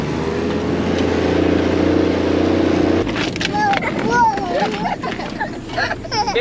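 A four-wheel-drive car drives through a river on a day trip toward Pennefather Beach, its engine a steady loud rumble, then water churns and splashes around it while people talk and exclaim inside.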